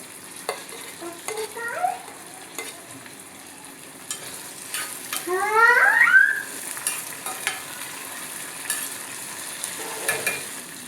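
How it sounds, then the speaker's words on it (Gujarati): Soft scraping of a spoon stirring chopped green chilli, tomato and capsicum in a pan for vegetable upma, with scattered clinks and a quiet sizzle, no voices. "બધું જ સરસ રીતે મિક્સ કરી લઈએ"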